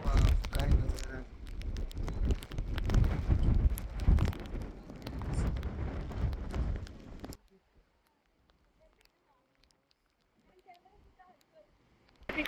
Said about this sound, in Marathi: खूप जोरात वारा सुटलेला आहे.